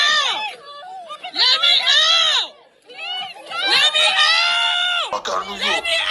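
A woman screams and wails repeatedly in loud, anguished bursts during a street fight, with a crowd chattering and shouting around her.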